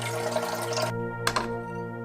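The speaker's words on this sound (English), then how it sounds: "I'll fill the reservoir to the max line." Water from a carafe pours steadily into a drip coffee maker's reservoir, a close, splashing stream that stops briefly, then a short final splash follows over a steady appliance hum.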